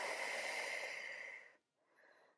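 A long, steady exhale of breath during a reformer jumpboard core workout with a ball, close and soft, followed by a brief pause and a shorter, fainter breath.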